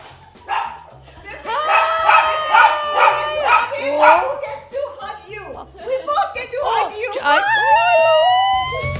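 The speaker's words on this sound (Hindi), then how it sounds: "और कुत्ता भी है, तेरे को काटेगा ये कुत्ता?" A pet dog in a home gives yipping, howl-like vocalisations amid lively talk and laughter, fairly close and loud throughout.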